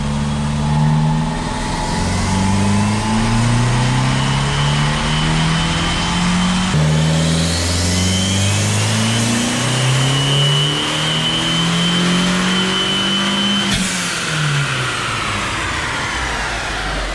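A Fiat 500 Abarth with a 1.4 turbo MultiAir engine revs hard on a dyno in third gear, its loud engine note climbing repeatedly in rising sweeps, with turbo whistle, then cutting off sharply near the end; nobody speaks.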